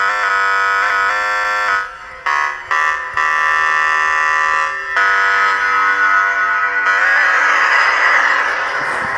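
A bright, steady synthesizer tone from a Korg NTS-1 with reverb, leaving a washy tail, briefly cut off a few times, then swelling again, with no talking.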